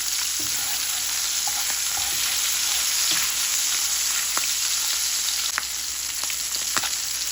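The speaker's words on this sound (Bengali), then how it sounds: "এক পোর্শন মাছ ভাজা হয়ে গেল" Fresh rohu fish pieces frying in hot oil, a loud, even, continuous sizzle close up with a few faint utensil taps and no talking.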